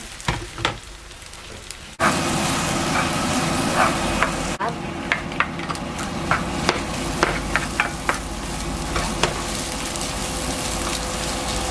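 Crab rice being gently stirred in a pot, with soft scraping and clicking strokes that come in an irregular rhythm over a low, steady background noise. The sound is close and moderately loud, and no one speaks.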